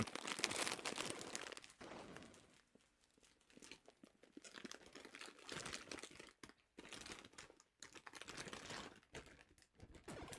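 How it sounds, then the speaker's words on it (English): A snack bag being crinkled and handled close by, with bursts of crackly plastic rustling that stop and start irregularly throughout. "Sorry for all the crinkling."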